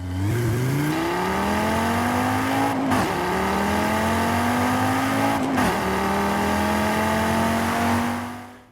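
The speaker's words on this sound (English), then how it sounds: "we have the iconic Audi RS3 with its wicked sounding inline 5 engine" An Audi RS3 with an inline-five engine revs hard in Forza Horizon 5, its loud, steady note climbing through gears with two brief shift breaks and a turbo whine near the top end.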